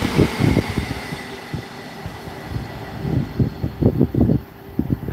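A Pendolino train passes at Rugeley Trent Valley in a train simulator game. Low, rumbling rhythmic thuds of wheels over the track rise and fall over a steady background hum.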